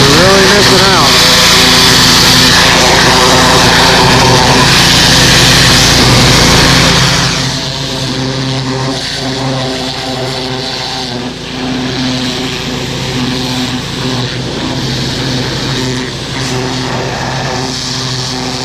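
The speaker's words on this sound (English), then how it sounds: "If you guys don't have a turbo nozzle for your pressure washer, you're really missing out." A pressure washer fitted with a turbo nozzle runs loud and steady as a pump-engine drone with hissing spray, cleaning traps after the season, then drops in level partway through while continuing more quietly.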